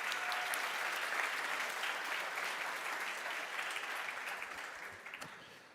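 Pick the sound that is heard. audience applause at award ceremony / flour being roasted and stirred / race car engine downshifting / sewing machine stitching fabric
audience applause at award ceremony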